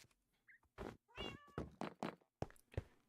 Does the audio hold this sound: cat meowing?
yes